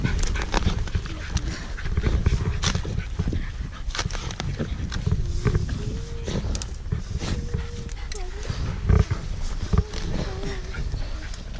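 Terriers ratting outdoors in South Wales, whining and yelping in excitement amid rustling and scuffling as they hunt rats, with people talking and calling over the steady commotion.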